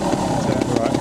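A trials motorbike engine revs close by for a brief moment, a buzzing, throbbing drone with slight pulsing, loud and steady.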